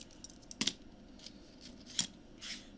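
Scissors snipping paper while making flower embellishments, a few sharp close snips spaced apart with quiet pauses between them.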